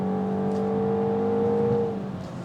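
A 2025 Mini Cooper S with the B48 engine accelerating on a mountain road, a sustained, rising engine roar with steady tonal drone that swells then eases off near the end, heard from inside the car with no talk.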